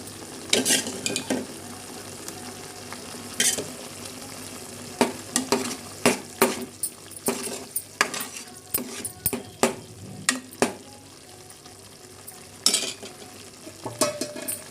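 Onion paste frying with green chillies in a pan for a Godavari-style fish curry, giving a steady sizzle broken by repeated spatula scrapes and clinks against the pan, with no speech.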